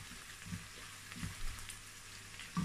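Onions sizzle steadily in a hot pan, a soft continuous crackle with a few louder pops and clinks, no voices.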